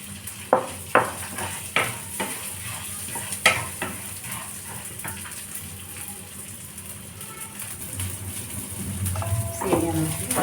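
Vermicelli frying in a pan for upma, with a run of clear scraping and tapping strokes from stirring, then a steady soft sizzle and a few faint clinks toward the end.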